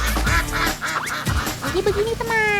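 Ducks (itik) quacking close by in an Indonesian farm setting, several short raspy calls in quick succession mixed with someone talking over them.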